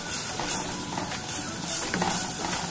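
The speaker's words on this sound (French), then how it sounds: "On fait suer les oignons." Onions sweat in butter in a pot for a tomato risotto, giving a soft, steady hiss and faint sizzle with small bubbling crackles throughout, close and even.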